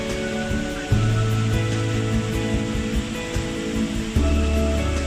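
Waterfall at Rincón de la Vieja in Costa Rica, a steady, full rushing roar of falling water heard close and continuous, with a brief low swell near the start and again near the end.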